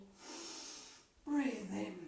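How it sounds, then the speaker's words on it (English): A person exhales audibly during a home workout exercise, a soft breathy rush followed by a stronger, louder breath with voiced edges, close to the microphone. "Breathe out"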